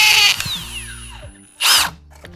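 Hammer drill punching through a house wall for a mounted box, two loud bursts of drilling separated by a quiet gap, with a whirring tone winding down after the first burst.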